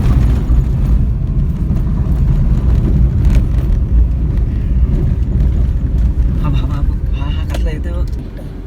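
Steady low rumble of a car moving along a road, heard from inside, with engine and tyre noise throughout and a few faint voices near the end.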